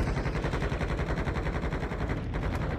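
Rapid, continuous automatic gunfire aimed at a VTOL aircraft in a video game, a steady loud stream of close shots with no pauses across the whole stretch.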